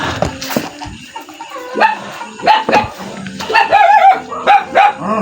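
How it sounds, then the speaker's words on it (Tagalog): A big dog barks repeatedly and loudly up close, deep woofs in an irregular run with short pauses between them. "Yung aso. Ah. Yung, yung aso guys, oh, malaking aso."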